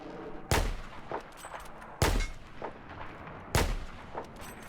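Three sniper rifle shots from the Battlefield 4 video game crack out loud and close, evenly spaced about a second and a half apart, each followed by a short rumbling echo, with no talking.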